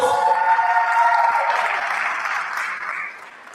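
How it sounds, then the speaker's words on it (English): A workshop audience in Mthatha applauds a pitching competition's contestants, a dense, steady wash of clapping that fills the room and thins out toward the end. "So let me give them a round of applause."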